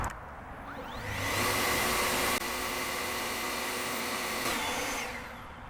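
An EGO leaf blower on turbo mode gives a loud, steady rushing roar that swells up, holds at full power with a slight step partway, then tapers off near the end.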